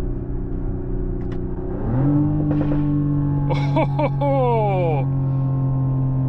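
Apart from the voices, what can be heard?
exhaust pops of a 2025 Mercedes GLE 53 AMG Hybrid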